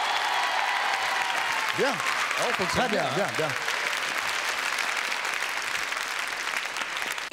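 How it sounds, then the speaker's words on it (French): Studio audience applauding on a French TV variety show set, a steady, dense clapping wash running throughout, with someone speaking briefly over it. "Applaudissements"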